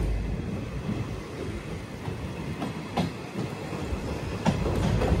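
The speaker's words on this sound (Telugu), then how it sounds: "అదిగోండి పాలకొల్లు అయితే వచ్చింది మన ట్రైన్" An express train rolls into Palakollu station, steady rumble and rhythmic clickety-clack of wheels on rail joints from inside the coach, with faint squeals and occasional knocks.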